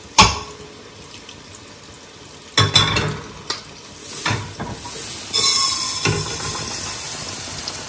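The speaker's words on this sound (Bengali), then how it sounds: "ঘিতে তারপরে আমি ভাজবো মুগের ডালকে।" Mung dal frying in ghee in a pan, with quiet stretches broken by sudden sizzling bursts and stirring scrapes that grow denser and louder toward the end.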